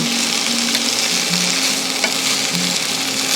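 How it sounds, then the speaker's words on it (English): Frozen vegetables fry loudly in a hot pan, a dense, steady sizzle up close, while a utensil stirs them around with a few scraping touches. A low hum runs underneath. "Just going to stir them around a little bit."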